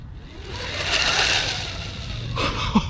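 Homemade transformer quadcopter folds back into driving mode, a close whirring motor and servo buzz that rises and fades over a few seconds, ending with a small mechanical clunk.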